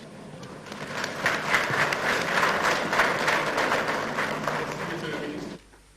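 Audience applause at a French government launch event for a digital portal and graphic charter, a dense, steady clapping that runs for about five seconds and then stops abruptly.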